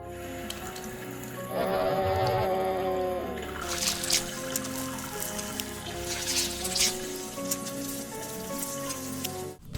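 Rain and water in the Xbox game BloodRayne: a steady dense hiss of falling rain and splashing water runs throughout alongside game music and tones.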